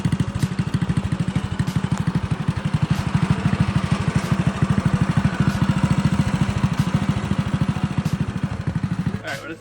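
A custom slammed Simplicity riding mower engine runs steadily with rapid, even chugging pulses and loose parts rattling throughout, loud and close, cutting off abruptly at the end.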